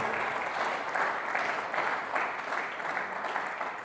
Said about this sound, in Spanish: Ese aplauso para Él.